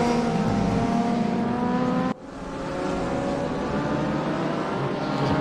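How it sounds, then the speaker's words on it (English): GT4 race cars circulate in a sim racing game, a steady, loud drone of engines with layered tonal whine and a brief cut partway through, after which the engine roar rebuilds and holds. "There's a good little gaggle of cars building up here."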